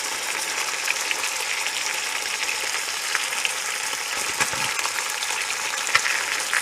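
Mustard-coated sirloin chops fry in a pan with a dense, constant sizzle and fat splattering in sharp pops, close and loud throughout with no talking.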